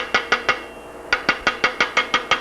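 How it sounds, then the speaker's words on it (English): Steel hammer blows on stiffeners fitted to a lugged bicycle frame ring out in a steady sharp rhythm, three strikes, a short pause, then seven more, close and loud with no talk. "hammer these into place, because the stiffeners are not going to form to shape until you put some pressure on them"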